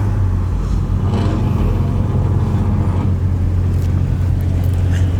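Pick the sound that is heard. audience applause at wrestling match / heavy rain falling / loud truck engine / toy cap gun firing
loud truck engine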